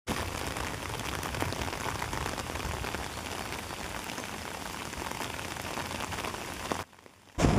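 Steady rain pours across a quiet campus with green trees and empty roads, a dense continuous hiss that cuts out abruptly near the end and then returns.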